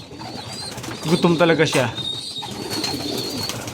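Tame pigeons in a newly built loft coo close by in a burst of soft, throaty calls, while someone talks over them.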